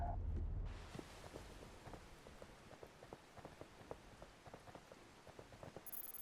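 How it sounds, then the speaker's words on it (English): Steady rain falls on a surface, a dense patter with scattered sharper drops throughout, continuous and fairly close after a brief louder opening noise. "Hey, it's raining now."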